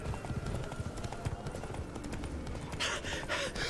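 Hooves of the horse Roach clip-clopping in a steady rhythm in a video game, close and clear, with a burst of louder scuffing noise near the end.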